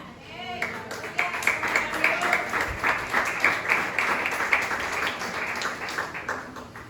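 A church congregation breaks into applause during a Sunday sermon, clapping swelling in after a brief speaking voice and continuing steadily at moderate volume before tapering.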